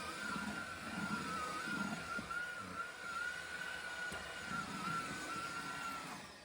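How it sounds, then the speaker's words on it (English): A cordless vacuum cleaner runs on a grooved rug in a breezeway, giving a faint, steady whine with a soft airy rush underneath, with no talking. "So let's try this vacuum cleaner."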